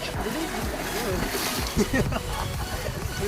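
Rushing water from a waterfall on the trail to Kalsubai, a constant broadband roar with splashing, heard near while someone speaks over it.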